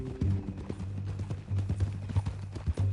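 Horse hooves clip-clop in a steady, close rhythm of sharp knocks over a low, constant hum, with no voices.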